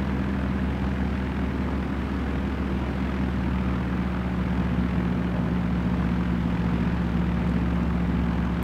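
Steady, loud propeller aircraft engine drone in the Flight Sim World game over the Grand Canyon, a continuous unbroken hum with a strong low tone and no talking.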